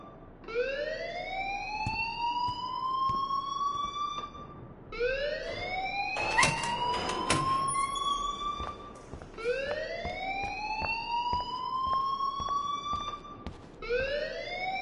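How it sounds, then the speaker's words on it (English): Alarm blaring in the video game Life is Strange: a loud, rising electronic whoop repeating every few seconds in a steady cycle, with bursts of clatter in the middle and no talking. "please turn off that alarm since that's your job"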